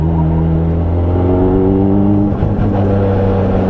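A Nissan S13's engine drones at high revs near the rev limiter, a loud, steady tone heard from inside the car with a slight stutter partway through.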